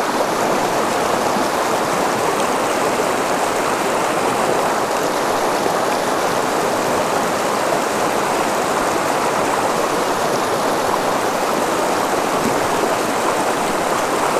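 Creek water flows steadily and close by, a continuous broadband rush with no breaks, at a fairly large stream under a tight tree canopy.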